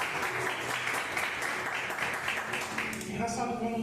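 A church congregation claps together, a dense, moderately loud wash of applause that fades slightly toward the end as a voice begins to speak.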